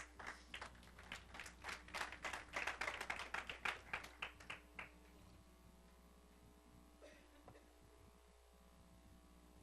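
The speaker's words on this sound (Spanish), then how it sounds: "De un aplauso al Señor" A small church congregation claps for about five seconds, sparse hand claps over a steady electrical hum, then the clapping dies away, leaving only the hum.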